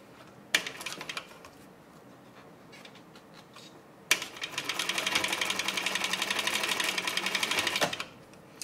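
A Techsew 2750 cylinder arm sewing machine stitches a tote bag: a sharp click near the start, a quiet lull, then a loud burst of fast, steady needle chatter for about four seconds before stopping.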